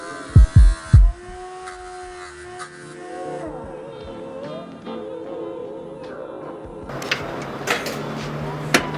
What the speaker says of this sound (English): we're just trying to clean it up here with a little cutting wheel